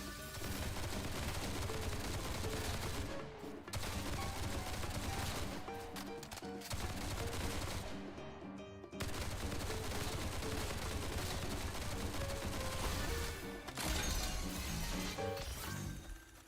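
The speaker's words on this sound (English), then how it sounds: "Oh, it's one of the shooting ones." Enemy gunfire in the game Duet Night Abyss, dense rapid shots and impacts layered over game music, nearly continuous with a few brief breaks.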